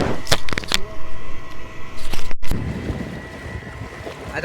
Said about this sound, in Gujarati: और ये हमारी बोट स्टार्ट हो गई.